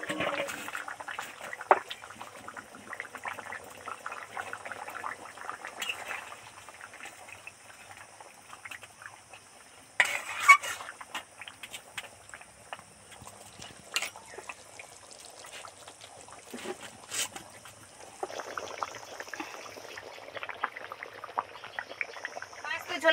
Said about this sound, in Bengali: ঝোলের মধ্যে দিয়ে 2-4 মিনিট ফুটিয়ে নিলাম